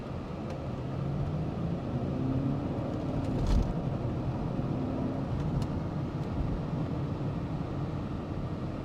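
A 20-year-old Mercedes W211 E200 pulling away from a stop, a steady low engine rumble and road noise from inside the car, with a brief knock midway.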